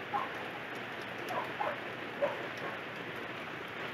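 Steady rain falls in a soft, even hiss, with a few faint droplet ticks scattered through it and no voices.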